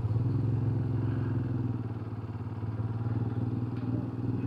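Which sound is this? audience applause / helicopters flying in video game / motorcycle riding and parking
motorcycle riding and parking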